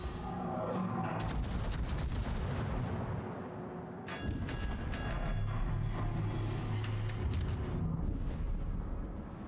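Warship main guns firing on a target in World of Warships, loud rolling artillery salvos and booming blasts in dense succession over a constant roar, close and heavy, no voices.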